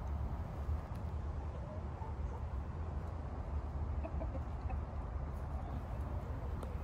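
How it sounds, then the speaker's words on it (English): A mixed flock of different chicken breeds clucks quietly in a farmyard coop, scattered soft calls over a low steady background hum, fairly distant and faint. "a farmyard assortment of different types of chickens"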